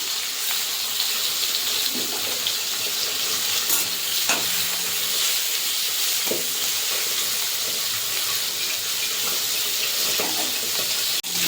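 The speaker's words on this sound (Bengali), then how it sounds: "চিংড়ি মাছটা ভেজে নেব।" Prawns sizzling steadily in hot oil in a wok, a continuous bright frying hiss with occasional clinks and scrapes of a utensil stirring, close and without speech.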